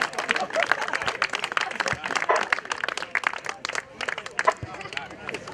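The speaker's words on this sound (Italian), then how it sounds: "Un grandissimo applauso" Steady, dense applause from an audience at an award ceremony for a winning team, with continuous rapid clapping and a murmur of crowd voices underneath throughout.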